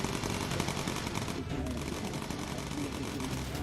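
Bomber gunners firing machine guns at enemy fighters in the video game Bomber Crew, a dense continuous rattle of rapid gunfire at steady loudness, with a brief dip midway.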